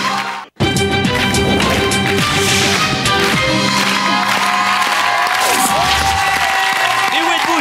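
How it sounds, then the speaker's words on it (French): A French television game-show studio audience applauds and cheers a finalist, a dense, loud, sustained wash of clapping with some shouts, continuing alone after a brief drop near the start. "Je voudrais qu'on l'applaudisse encore une fois très fort"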